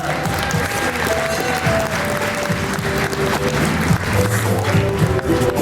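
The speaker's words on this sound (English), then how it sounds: "How about a round of applause for our Sonaimiti this evening?" Audience applause fills a Samoan siva dance recital, a steady, dense wash of many hands clapping continuously at moderate loudness for several seconds without any speech.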